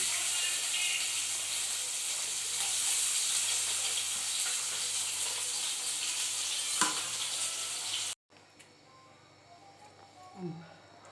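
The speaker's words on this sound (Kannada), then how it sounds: "ಇದು ಎಣ್ಣೆ ಕಾಗತ್ತಿ ಇದು ಉಳ್ಳಾಗಡ್ಡೆ ಹಾಕ್ತೀನಿ" Onion sizzles steadily in heated oil in a pan, a continuous loud frying hiss that cuts off abruptly, followed by quieter kitchen sounds and a brief clink.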